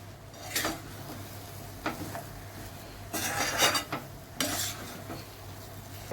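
Semolina pineapple sheera is stirred in a pan after steaming with hot water, as several bursts of spoon-scraping and clinking rise over a faint background sizzle.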